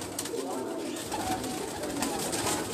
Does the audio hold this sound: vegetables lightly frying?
no